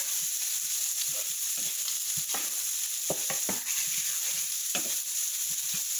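Pea pods and pork sauté in a pan with a steady, close sizzle, while a utensil stirs and scrapes through the food in irregular soft clicks and taps.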